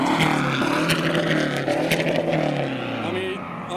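A Nissan S14 at a car meet revs hard, its exhaust roaring and crackling with pops and flames, close and loud, while people talk over it.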